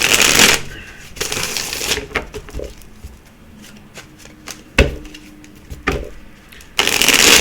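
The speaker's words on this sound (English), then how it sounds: "Let's give it another shuffle." Cards riffle-shuffled in several quick bursts, loud and close, with softer taps and handling sounds between shuffles.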